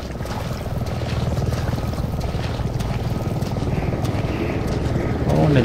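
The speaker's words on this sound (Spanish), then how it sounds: "Helicóptero." A helicopter in Resident Evil 7 sounds as a steady low rotor chop and engine drone, fairly loud and continuous, swelling slightly near the end while someone talks over it.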